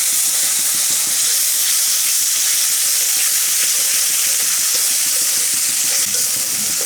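A spice paste with salt, chili powder and a splash of water fries and is stirred in a pan for egg curry, giving a loud, continuous sizzle with a hissing wash and repeated scraping strokes of the spoon, no voices.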